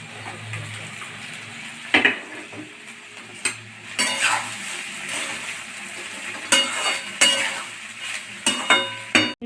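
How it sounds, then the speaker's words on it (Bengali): Rice tipped into a hot wok of capsicum, beans, peas and carrots frying in ghee, with steady sizzling and sharp scraping, clattering spatula strikes at irregular intervals, close and fairly loud, with no talking. "এবার আমি ভাতটা দিয়ে দিচ্ছি"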